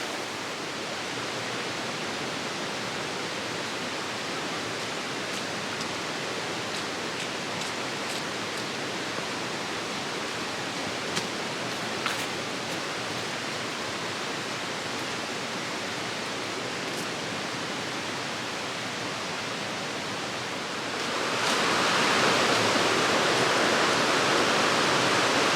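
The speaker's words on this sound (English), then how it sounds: "these rapids and or waterfalls underneath that bridge" Rapids and waterfalls rush beneath a bridge on the North Yorkshire Moors, a steady broadband roar of moving water throughout that swells louder and closer near the end.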